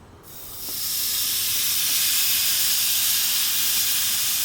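Loud, steady hiss of two marinated ribeye steaks sizzling on a hot grill, starting abruptly and continuing unbroken, close up with no talking.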